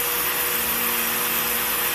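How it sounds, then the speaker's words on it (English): A vacuum cleaner runs loud and steady at close range while clothes are vacuum packed, a continuous rushing whine with no talk over it. "And then you know how to turn on the vacuum?"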